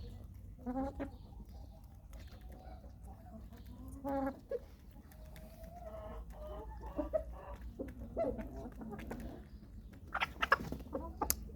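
Backyard chickens, including blue and black breeds, cluck in a coop with scattered sharper calls rising above a low steady murmur; the birds sound fairly close and the sound comes and goes in small bursts.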